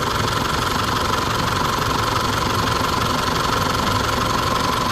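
An Isuzu D-Max diesel pickup engine with an overrun fault runs steadily up close, a rough, even clattering rumble with no pauses.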